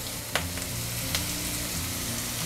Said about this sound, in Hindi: अब इसमें हम नूडल्स डालेंगे।